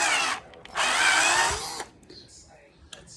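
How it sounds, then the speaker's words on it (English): An electric drill whirs in two loud bursts, a short run then a longer one, while building a home-made wooden computer stand; quieter clicks and faint sounds follow as it stops. "I had this drill, the other drill, for like 2 years, 3 years now."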